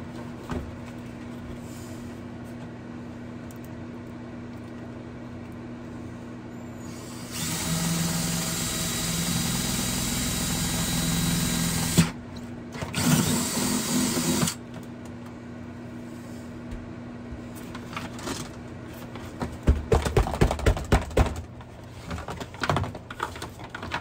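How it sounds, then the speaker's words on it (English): A power drill runs in two bursts, a long steady whine then a shorter one, drilling a hole in a reservoir tank over a low background hum, followed by some clattering handling noises. "And we're gonna drill away."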